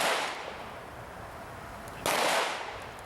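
Two loud, sharp gunshots fired at a ballistic panel ring out about two seconds apart, each with a lingering echo trailing off.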